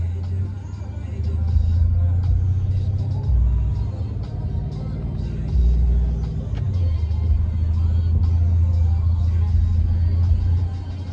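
A Ford Mustang with 3.73 gears drives along, its engine a loud, low rumble that rises and falls as it revs, with voices talking over it.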